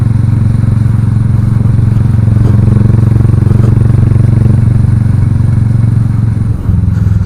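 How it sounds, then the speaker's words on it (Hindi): A Royal Enfield Meteor 350 motorcycle with a new exhaust being ridden, its engine giving a loud, steady low thump that holds throughout at cruising pace, close and dominant with no clear talk. "आज मैं फाइनली निकला हूँ अपनी बाइक को लेके एंड फर्स्ट टाइम राइड कर रहा हूँ।"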